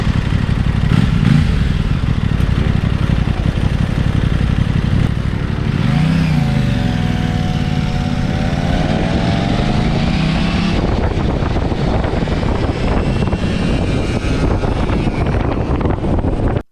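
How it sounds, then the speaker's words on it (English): A small gas-powered skateboard engine pulls up at a traffic light, buzzing loudly and steadily close by, with a rising and falling rev in the middle, rough clatter and wind noise throughout. "this kid pulls up on a gas-powered skateboard."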